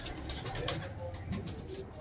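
Punjabi Malwai pigeons kept for sale give a brief stretch of soft, low cooing close by, under a steady background hum.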